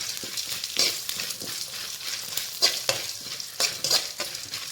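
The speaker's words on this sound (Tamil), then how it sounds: "இப்போ இதை நல்லா வறுத்துக்கலாம்." Fresh whole spices fry and get stirred in a pan for South Indian drumstick sambar, with a soft steady sizzle broken by repeated close scraping stirs, no talk.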